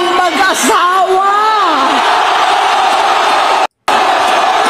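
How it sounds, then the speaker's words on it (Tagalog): A crowd of people shouting and yelling together, loud and sustained, with rising whooping voices at the start and a steady roar continuing after. "na-amaze ako dun sa sigawan ng tao"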